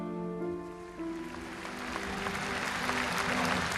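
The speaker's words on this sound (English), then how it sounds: "The applause, which erupted outside Westminster Abbey and quickly spread inside" Applause from a large crowd outside and inside Westminster Abbey builds steadily, broad and continuous, over a low sustained tone from earlier in the recording.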